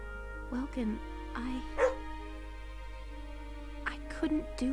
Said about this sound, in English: You can probably hear Max barking behind me.